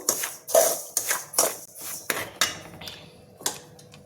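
Semolina (rava) dry-roasting in a pan over a low flame, with a spoon or spatula scraping and clattering against the metal in repeated close strokes roughly every half second, without any voices.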